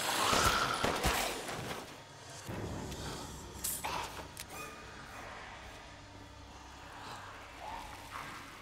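Gunfire in Resident Evil Village: a handful of fairly quiet shots spaced a second or two apart, mixed with creaks and mechanical clatter in a dim, echoing space.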